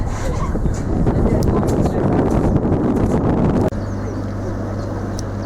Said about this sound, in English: Windy, a little breezy.